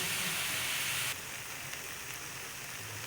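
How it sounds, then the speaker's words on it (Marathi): Tomatoes in hot oil give a broad, even sizzling hiss that is loudest at first, then softens to a quieter steady fry; close and continuous with no voices. "आता टोमॅटो पण छान असं घेऊयात तेलामध्ये परतून."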